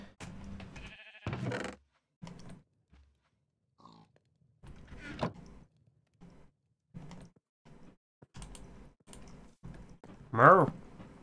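Sheep in Minecraft let out short bleats amid sparse game sounds and pauses, with one louder bleat near the end.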